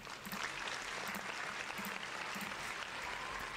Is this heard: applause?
yes